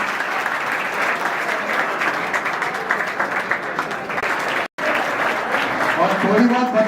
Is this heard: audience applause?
yes